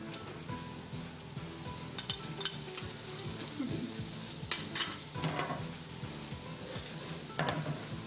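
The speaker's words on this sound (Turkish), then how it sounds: "Biraz da biber atıyorum." Peppers frying and being stirred in a pan with cooked garlic, a low steady sizzle with scattered utensil scrapes and clinks, fairly quiet and close.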